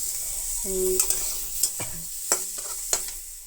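Semolina frying in a little ghee for a vegetarian sooji dish, a steady hiss of sizzling with several sharp metallic taps of a spoon stirring in the pan, close by.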